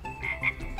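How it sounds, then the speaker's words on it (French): A frog at a zoo gives a single short croak, close and fairly loud, with no voices over it. "Une grenouille! Vous voyez la grenouille?"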